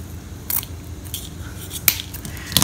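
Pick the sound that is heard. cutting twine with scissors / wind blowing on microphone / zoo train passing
cutting twine with scissors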